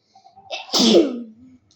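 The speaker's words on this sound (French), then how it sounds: "Petit éternuement par froid" A single sneeze, close and fairly loud: a short sharp intake followed by a bright burst that trails off into a brief tonal tail.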